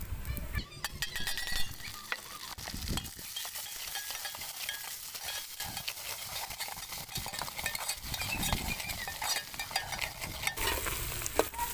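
Crackling sizzle of crushed green chili, garlic and ginger frying in oil, with stirring and scraping of a spoon against the pan throughout.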